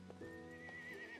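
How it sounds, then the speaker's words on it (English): A horse neighs in the SCUM survival video game, a clear whinny with a rising then sustained pitch that lasts about a second, fairly close and heard alone. "That was a horse."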